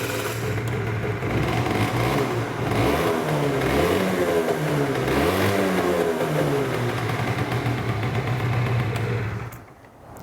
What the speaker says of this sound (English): So you got a two-stroke engine that comes to life with electric start.